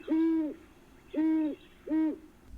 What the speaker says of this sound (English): another great one that kind of sounds like a response to the barred owl is the great horned owl